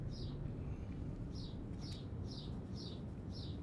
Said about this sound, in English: Oh my, those birds.